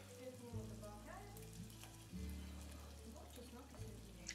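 Bacon and garlic fry in a pan with a steady, close sizzle and crackle throughout, and a voice is heard faintly under the frying.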